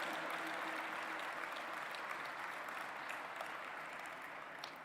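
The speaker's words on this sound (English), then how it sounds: "Thank you for a round of applause, dignitaries." Distant, faint applause from dignitaries at an interfaith summit in a peace dome, a soft continuous patter of clapping that slowly fades toward the end.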